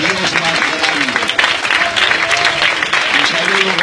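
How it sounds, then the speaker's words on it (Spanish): A congregation at a missionary baptism celebration claps loudly and densely, a full, continuous wash of applause with voices mixed in throughout. "Terminar esta fiesta dándole el mejor aplauso"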